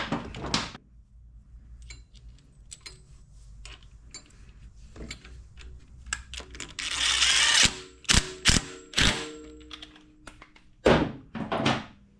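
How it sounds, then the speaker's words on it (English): A nut with a wavy washer is torqued down on a Lambretta TV175 scooter in a workshop: scattered close mechanical clicks and ratcheting bursts, a few sharp knocks, and quiet gaps between. "we're gonna torque the nut down with the wavy washer now"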